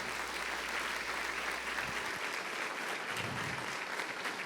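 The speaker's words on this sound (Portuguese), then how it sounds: "Você pode aplaudir forte esse nome poderoso." Sustained applause from a church congregation, a dense steady clapping that fills the whole stretch without pause.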